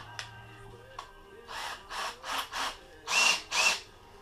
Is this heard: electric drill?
yes